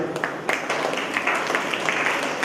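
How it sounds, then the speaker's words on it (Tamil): An audience of children claps through the whole stretch in loose, uneven applause that stays steady at moderate loudness. "கைதட்டு பிள்ளைங்க"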